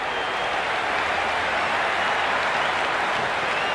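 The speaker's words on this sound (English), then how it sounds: "the crowd is at near bursting point at today's play" A large stadium crowd roars and applauds continuously at a T20 World Cup cricket match in the Cricket 26 video game, a steady, dense wash of cheering with no breaks.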